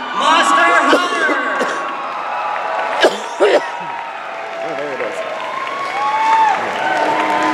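At the Anime Los Angeles 2016 masquerade awards, a cheer squad in the audience applauds and whoops. Loud, continuous crowd noise with shrill yells rising above it, heard up close, with a voice occasionally mixed in.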